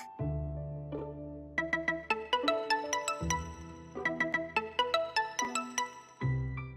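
A melodic mobile phone ringtone from the game Idolmaster Cinderella Girls Starlight Stage rings loud and close, its bright chiming phrase repeating for several cycles with no voices over it.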